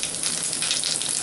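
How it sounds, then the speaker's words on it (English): Cumin seeds sizzle in hot oil in a pan, a steady bright hiss that stays even and close throughout the brief moment. "Now oil is hot enough for adding the cumin seeds. Add the cumin seeds."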